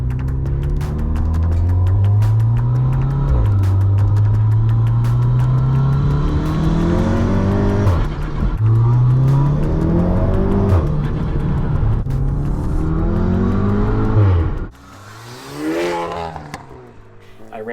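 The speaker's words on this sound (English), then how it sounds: "the turbo sounds that you got out of having this massive open intake was just insane" A VW Golf turbo engine fitted with an Integrated Engineering open intake revs and accelerates, a loud, rising engine drone climbing through several pulls with turbo whoosh, then drops off sharply near the end to a quieter idle and brief rev.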